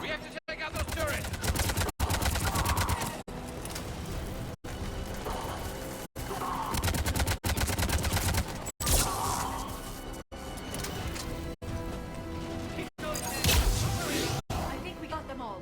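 Gunfire in the video game Mass Effect 3 during an attack on turrets: loud, sustained bursts of shots and impacts, broken by brief regular gaps, over a busy background of battle noise.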